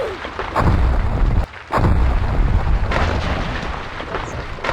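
A loud booming explosion in a Roblox Naruto survival game erupts, cuts out for a moment, then rumbles on with heavy crackling debris noise.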